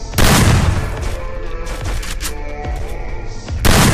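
Loud bursts of gunfire from a two-shot weapon in a shooting video game, rapid cracks and booms packed closely together, close and dominant.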